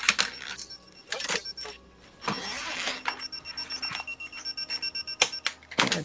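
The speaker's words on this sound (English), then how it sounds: "My alarm clock started beeping." Alarm clock beeping in intermittent high electronic tones, partly masked by busy clicks and bursts from a League of Legends match.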